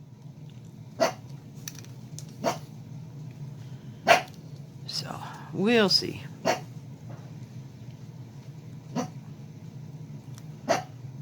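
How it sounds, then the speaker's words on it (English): A dog barks in sharp single yaps spaced a second or two apart, with a short whimpering whine in the middle, and a person speaks briefly, hushing it. "Wonder what the dog's barking at."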